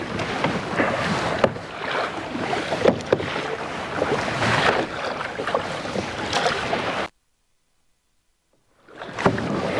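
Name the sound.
kayaking on the Arabian Sea, Lakshadweep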